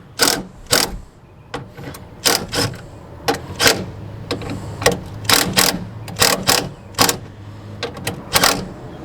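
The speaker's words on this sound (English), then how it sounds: "he's going to go ahead and snug up these two bolts" Two bolts are snugged up on a hood light bracket of a 2007 Freightliner Columbia truck. A ratchet gives rapid, sharp clicking bursts in an irregular rhythm, loud and close over faint background noise.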